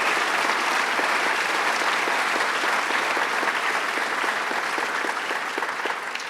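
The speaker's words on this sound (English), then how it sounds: "Let's give him a round of applause, Senator John Bonasek." Sustained loud applause from a large crowd at a political event, steady clapping that continues throughout with a faint murmur underneath.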